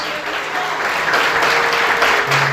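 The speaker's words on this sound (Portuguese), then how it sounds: "Você pode aplaudir Jesus por isso?" Church congregation applauding during a sermon, a dense, steady wash of clapping that stays loud for the whole short stretch, without speech over it.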